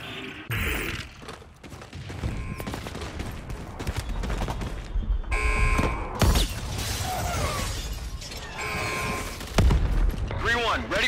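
An aircraft gun run in the video game Call of Duty: Infinite Warfare, with bursts of rapid strafing fire, shattering impacts and heavy booms layered over radio chatter and battle noise.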